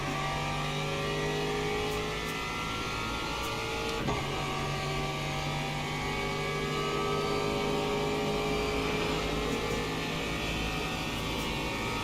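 Ferrari hypercar engine in the racing game Le Mans Ultimate, a steady high-pitched mechanical whine and drone held at speed with a brief shift partway through, continuous and prominent throughout, no talk.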